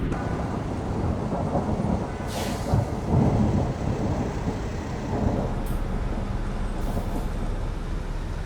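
Thunder rolls through a thunderstorm in American Truck Simulator on a Louisiana road, with low rumbles swelling over the steady drone of the truck and road.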